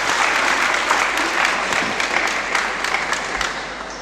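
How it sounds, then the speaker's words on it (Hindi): Audience at a Hindi-language student event in Vidyanagar, Vagad applauds a visiting speaker, with steady, dense clapping that stays loud and sustained throughout, and no voices break through. "तो पहले सर के लिए बहुत ज़ोरदार से तालियां मारिए"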